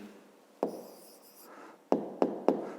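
A pen writes an answer on paper for a fifth-grade maths exercise, giving soft close scratching and several sharp taps, with no talking.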